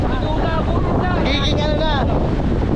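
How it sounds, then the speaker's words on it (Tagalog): Strong wind roars and buffets the microphone continuously, with a faint voice rising briefly beneath the gusts. "Sobrang lakas ng hangin"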